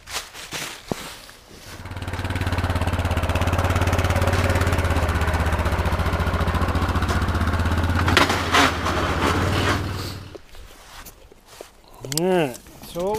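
Yamaha Grizzly 660 four-wheeler ATV engine running close by in the woods, a steady rumbling idle for about eight seconds before it cuts out, followed by someone talking.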